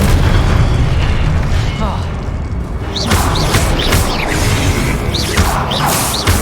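Confringo blasting spell cast in Hogwarts Legacy, heavy booming bursts rolling over dense, continuous game noise, with whooshing magical chirps layered on top throughout.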